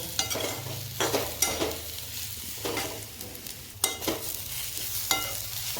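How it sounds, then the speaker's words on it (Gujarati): Dates roasting in ghee over a low flame while being stirred, with a gentle continuous sizzle punctuated by repeated scraping strokes of a spoon against the pan, near and soft, without speech. "ઘીમાં શેકાવા દો."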